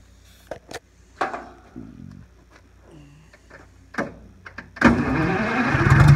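Several clanks and knocks, then an old mill engine, helped by ether sprayed into the intake, sputters to life and runs loudly and roughly for the last second or so.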